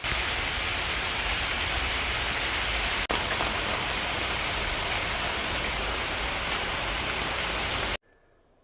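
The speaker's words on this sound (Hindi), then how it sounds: "2 दिन से लगातार बारिश हो रही है" Steady rain pouring down in a garden, a dense even hiss holding constant for about eight seconds before cutting off abruptly, with no voices.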